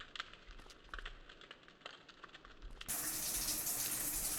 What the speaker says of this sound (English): Yeah, I like all these little drips. Good sound effects as well.